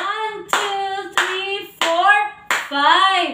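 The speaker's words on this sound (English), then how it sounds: "So we will give the group 3 a 5 claps." A primary school class in a P.E. health lesson claps together in unison, giving a group a round of counted claps. Several sharp claps come in an even rhythm, with voices chanting the count over them.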